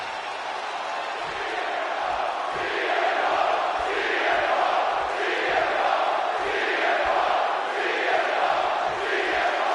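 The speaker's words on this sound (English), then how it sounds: "And just listen to this crowd here in Chicago" Roaring arena crowd in Chicago inside WWE 2K26 on PS5, as CM Punk squares off against Eddie Guerrero; a dense, steady wall of cheering and shouting with rhythmic swells, loud and continuous throughout.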